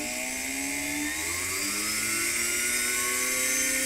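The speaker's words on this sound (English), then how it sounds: "You do want to use a high-speed drill bit because we're drilling through metal" A high-pitched drill with a high-speed bit whines steadily, its pitch sliding slightly as it bites into metal, loud and close with no talking.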